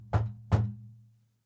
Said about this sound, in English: the night was shattered by an abrupt and ominous knock